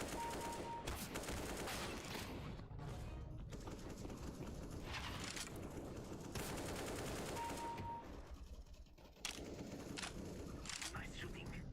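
Faint PUBG Mobile tournament gunfire crackles in repeated rapid bursts under steady background chatter and game noise.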